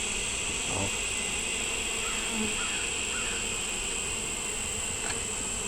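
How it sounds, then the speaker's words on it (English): Bees buzz steadily around an opened beehive, a continuous dense drone close by with faint scattered ticks over it. "You got these little bees here that are saying that they're caught."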